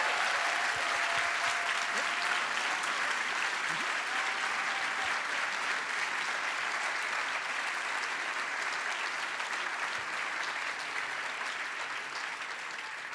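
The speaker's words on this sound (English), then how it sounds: "Let's give him a round of applause." Steady, dense applause from a large audience at an opening ceremony in Athens, greeting the international president, holding at an even level throughout and easing only slightly toward the end.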